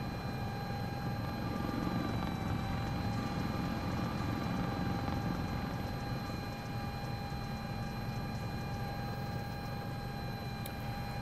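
Steady, continuous helicopter rotor and turbine drone from a flight simulator game, loud and unchanging with a constant whine layered over the low throb, no talking.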